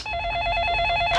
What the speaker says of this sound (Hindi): ये किसी घंटी बजी? ओहो, फोन।